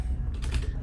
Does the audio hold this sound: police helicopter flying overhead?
no